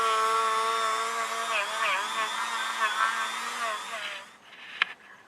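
A power tool grinds the ports of a Honda CD50 cylinder head, a steady high-pitched whine that wavers as the load changes and then spins down near the end.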